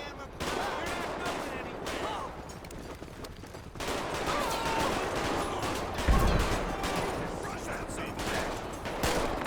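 Dense gunfire from a shotgun and pistol in the police game LSPDFR, set around a Sandy Shores sheriff shootout, crackles in rapid overlapping bursts throughout, loud and continuous with a heavier boom near the middle.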